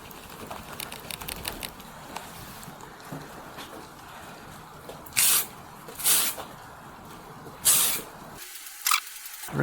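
A Winsor and Newton fixative aerosol can sprays outdoors in several short hissing bursts, separated by quiet gaps with faint clicks and rattles, close and crisp, ending with a final short spray.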